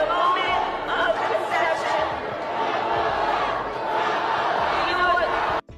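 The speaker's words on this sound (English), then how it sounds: "Half the crowd started chanting" A large political rally crowd chants "Donald Trump" in rhythmic unison, loud and continuous with whoops and general roar layered over it, ending in a sudden cut.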